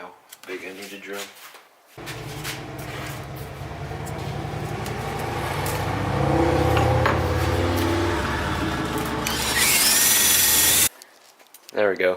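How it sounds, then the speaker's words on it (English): Power drill boring a hole to fit a stud during an engine head and head gasket job, a sustained whirring grind that rises and strains mid-way, then stops abruptly, with brief speech before and after. "see how big I need to drill"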